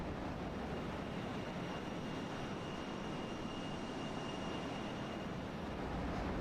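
A JustFlight Fokker F28 airliner in a flight simulator game gives off a steady, broad roaring rush with a faint high whine running through it, constant and unbroken, with no voices.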